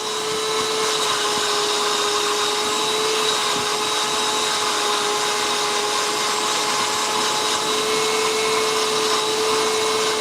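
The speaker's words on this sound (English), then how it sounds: "Live stream watching somebody vacuum their carpet." A vacuum cleaner runs steadily over a carpet, a loud continuous motor whine with a constant pitched hum throughout, no pauses and no talking.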